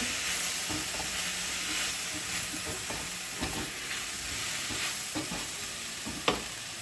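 Garlic sizzles in a stainless steel pan with a constant bright frying hiss, broken by periodic scraping and tapping as it is moved around the pan.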